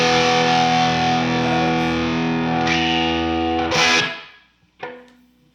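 An Epiphone Custom Korina 1958 Flying V electric guitar rings out a sustained distorted chord through an effects pedal, then cuts off, followed by a brief bright strum that fades.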